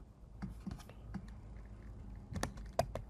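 Computer keyboard keys pressed as Photoshop shortcuts, heard as irregular, faint, close clicks in small clusters, with a denser burst of taps near the end.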